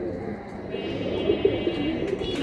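A silver Giribaz pigeon coos softly, a few low rolling coos rising over a steady background murmur at a pigeon market.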